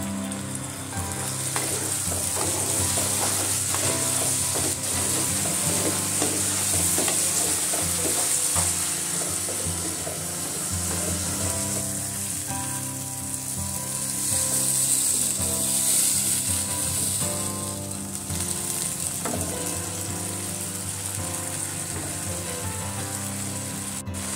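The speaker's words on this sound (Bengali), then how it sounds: "অল্প একটু জল দিয়ে মশলাটাকে কষিয়ে নেব।" Spice paste with red chilli powder and a little water sizzles and crackles in a pan throughout, for a fish curry, with steady frying hiss, scraping and occasional clicks of stirring.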